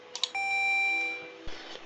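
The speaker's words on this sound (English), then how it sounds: "I added a chime box right here which will play, well, different chimes." Electronic chime tones ring out from a homemade chime box built into a DIY air conditioner, a short melodic sequence of sustained pure notes heard close and clear, ending with a soft click.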